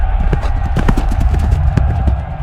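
Horse hooves clip-clop close by in a quick, steady rhythm during a medieval short film shoot, loud and continuous with a low rumble underneath.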